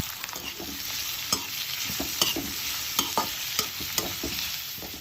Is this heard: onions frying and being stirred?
yes